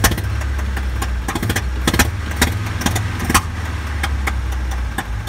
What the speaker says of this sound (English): Sounds like it's got a bad miss.